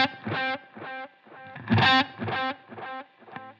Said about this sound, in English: It's moved my delay or my echoes over to the left side completely.